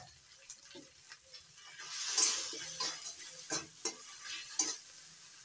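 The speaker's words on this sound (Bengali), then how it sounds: "অল্প অল্প জল দিয়ে মশলাটা কষিয়ে নেব।" Spice paste with turmeric and salt is sautéed in a pan for a rui fish curry, giving a soft, steady sizzle broken by intermittent scraping stirs that grow a little louder midway.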